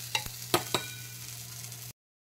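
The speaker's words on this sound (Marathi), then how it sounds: "लसूण भाजायचा आहे।" Garlic roasting in a pan for paneer tikka masala: a soft continuous sizzle under three sharp scraping stirs, then abrupt silence after about two seconds.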